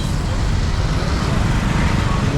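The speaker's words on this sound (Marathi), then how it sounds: "बघ फुल ट्राफिक आज उरणमध्ये आज गर्दी आहे" Heavy, crowded road traffic in Uran, a dense steady roar of engines and tyres with low rumble from passing vehicles, close and continuous throughout.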